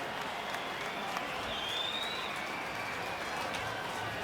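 Big stadium crowd at a Manly Sea Eagles versus Parramatta Eels rugby league match on a Sunday afternoon, a steady distant roar and murmur of thousands of spectators, even and sustained with a faint whistle-like tone briefly rising through it.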